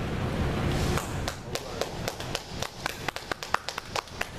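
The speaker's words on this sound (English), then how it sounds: "Mike, you got to clap for the effort" A short burst of hand clapping at a school homecoming event, a few people applauding with sharp, uneven claps over a noisy background that thins out toward the end.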